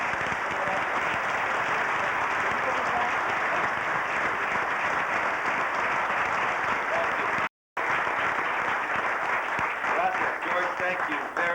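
Sustained applause from a large crowd welcoming Henry Cisneros at a 1992 Latino Issues Forum voter registration rally, dense and steady throughout with a brief cut near the end.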